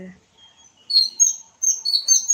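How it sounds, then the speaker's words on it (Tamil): Sparrows chirping in short, bright bursts, several quick tweets close by with brief gaps of quiet between them, alone without talk. "மறுபடியும் குருவி வந்திருக்காங்க"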